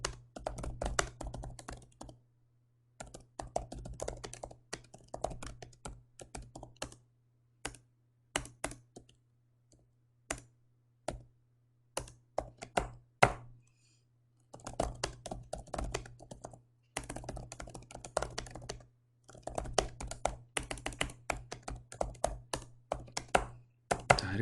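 Code is typed on a computer keyboard in rapid, uneven flurries of crisp key taps broken by short pauses, with a steady low electrical hum running underneath.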